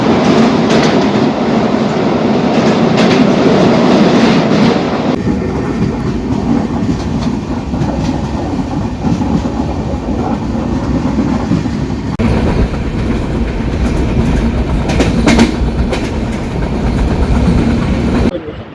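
A train travels from Margao station towards Mumbai CSMT, a loud, close, continuous rumble of wheels with rhythmic clickety-clack over the rails that holds steady for the whole stretch, with no talk.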